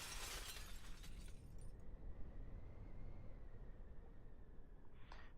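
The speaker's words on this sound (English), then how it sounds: "the sound of shattering glass wrenches me awake" Glass shattering in a crash from the visual novel game Promises To Keep: a loud, bright burst of breaking and scattering shards over the first second and a half, fading into a low steady hum, with a faint tinkle near the end.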